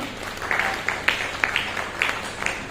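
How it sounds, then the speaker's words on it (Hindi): A small group at a book launch and poetry gathering claps in scattered, uneven bursts, fairly close, over a low background murmur. "इनके लिए भी थोड़े जोरदार तालियां"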